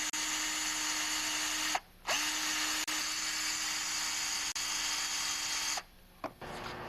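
A soft wire brush spun by an electric drill scrubs the seal edges of a Craftsman 5.5hp lawnmower carburetor, giving a steady high whine and scratchy buzz in long runs broken by two short pauses and a few clicks.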